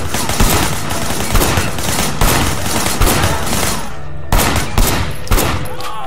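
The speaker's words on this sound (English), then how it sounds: "Shooting at the guys over there." Dense, loud gunfire from a shooter firing out of a car window, rapid overlapping shots continuing throughout with sharp bursts standing out above the volley.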